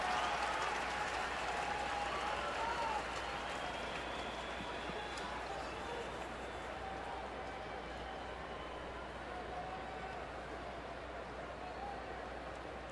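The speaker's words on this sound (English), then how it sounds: "Now the crowd's starting to come alive a little bit." Crowd at a Colorado Rockies at Arizona Diamondbacks baseball game, a distant, diffuse roar of cheering and applause from the stands, faint and continuous, with commentators talking over it.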